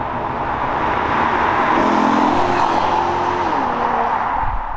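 Maserati Quattroporte fitted with an aftermarket exhaust, revving loudly and steadily with a rising, sweeping engine note that climbs and falls across the whole stretch, close and with no talk.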